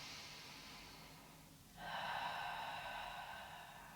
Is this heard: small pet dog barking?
no